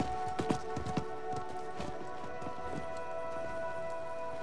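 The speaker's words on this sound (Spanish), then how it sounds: "Creo que era el caballo del mercader." Merchant's horse in the Diablo IV video game, its hooves clip-clopping in a few irregular near steps over a steady ambient music bed, with no one speaking.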